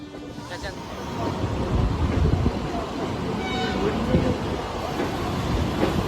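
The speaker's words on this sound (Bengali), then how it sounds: "তো ট্রেন ঢুকে গেছে স্টেশনে।" A train pulling into Howrah station rumbles steadily with a low, continuous roar and faint clatter, rolling slowly nearby, with indistinct voices mixed in.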